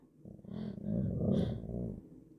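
A dog growls low and steadily at a fireplace, a rumbling snarl lasting about two seconds with a couple of short, breathy huffs, close and moderately loud with no talking.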